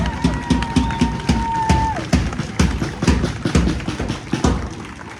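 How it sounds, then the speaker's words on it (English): Audience at a protest rally against new protest laws in Sydney Town Hall clapping: dense, sustained applause from many hands in a large indoor hall, loud and steady throughout, with a faint whistle early on. "Yeah, a round of applause."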